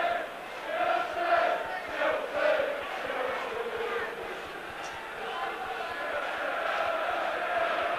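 A big football crowd at Stamford Bridge on a cold, damp evening in London for a 1986 Milk Cup quarter-final replay, a distant, rising and falling roar under a commentator's talking.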